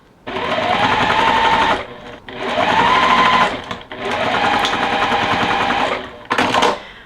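A sewing machine stitching quilt block seams for a Shoo Fly block runs in three long, loud, steady bursts separated by short pauses, then one brief final burst.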